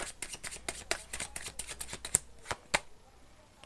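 A deck of tarot cards is handled close up, making quiet, rapid papery slaps and flicks in an irregular rhythm, with a couple of sharper snaps near the end.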